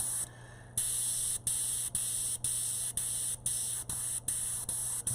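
An airbrush sprays paint with a loud, close hiss that cuts out briefly at regular intervals, giving a steady pattern of short sprays and pauses.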